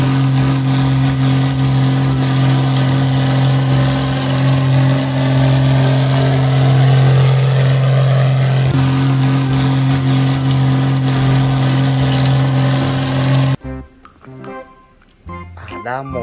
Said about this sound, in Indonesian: Traktor berwarna merah.